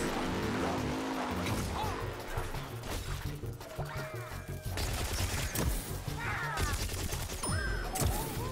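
Gunfire and impact blasts from the Plants vs Zombies Garden Warfare 2 video game crackle in dense, irregular bursts, mixed with smashing hits and game effects at moderate loudness.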